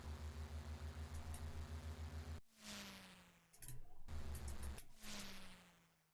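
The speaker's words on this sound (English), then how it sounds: "You always get that whooshing noise whenever you overtake a car." Overtaking whoosh in an Amstrad CPC racing game: a pulsing, buzzy engine drone is cut by two sweeping whooshes as cars are passed, each a quick noisy rush that sweeps down in pitch before the engine returns.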